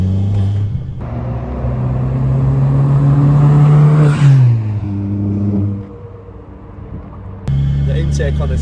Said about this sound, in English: the intake on this car, it sounds so good. Sounds amazing.